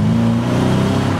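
A BMW E34 540i V8 engine revs close by, a loud steady throaty hum of low harmonics, brief and alone.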